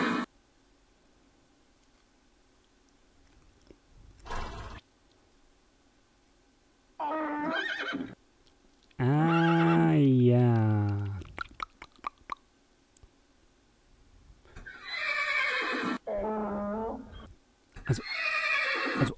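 A horse in the Minecraft Fossil & Archeology Mod gives a loud, drawn-out whinny, with shorter snorts and neighs around it and chewing or hoof sounds between, alone without talk.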